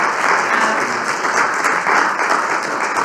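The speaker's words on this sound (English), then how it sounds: "I know there's some people already clapping." Steady, dense audience clapping fills the room at a talk in a scholar lecture series, an even wash of many hands throughout with no pauses.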